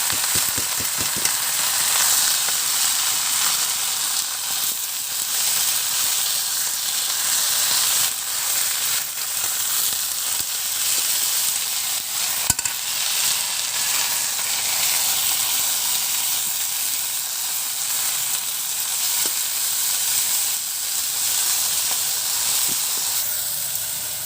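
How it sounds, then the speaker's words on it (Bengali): Drumstick (moringa) leaves frying in a pan, a steady loud sizzle and hiss running continuously with occasional faint stirring knocks, close up. "একদমই সবুজ দেখে ভাজি করে নিলাম।"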